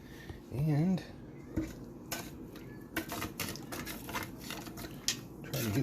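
Metal fish spatula stirring and scraping in a container to dissolve quinine extract, light clinks and scrapes with an irregular rhythm, close and quiet, with a brief tonal sound near the start.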